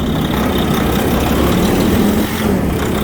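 A Peterbilt truck bought at auction sits idling, its diesel engine producing a loud, steady low rumble that stays close and constant from start to finish.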